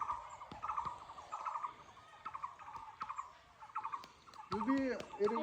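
Spotted dove calling near an old house with a large banyan tree, soft repeated cooing phrases in a rhythmic pattern, faint and somewhat distant, with other bird sounds toward the end.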